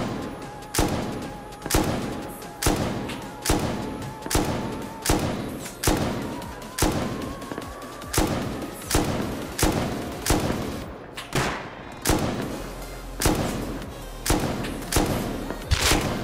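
Gunfire in the modded survival video game Rust, with about twenty heavy, evenly spaced shots roughly every three-quarters of a second, each a loud booming report, and a brief pause near the end.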